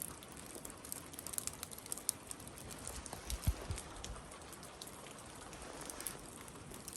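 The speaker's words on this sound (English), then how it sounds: "I think it's actually raining." Soft, steady patter of rain falling outdoors by a woodshed in Alaska, with scattered light drip clicks over a quiet background hiss.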